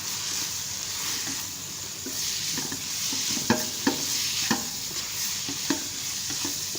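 Cabbage and other vegetables tossed with vinegar and soy sauce in a hot pan for a chicken bread roll filling, steady sizzling with rhythmic stirring scrapes and a few sharp clinks.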